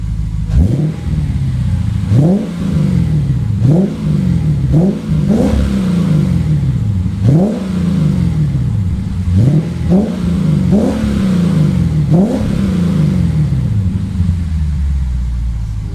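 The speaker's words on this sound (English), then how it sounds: "I'm gonna give it a few revs now." A Lexus GSF/RCF V8 with a newly installed aftermarket exhaust, revved repeatedly from idle, each blip rising and falling back to a loud, deep, rumbling idle, with roughly a dozen revs close up and no talk.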